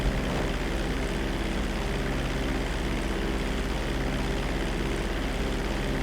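Propeller airplane engine from a Grand Theft Auto V flight lesson, a steady, loud, continuous drone with an even hum throughout and no talk.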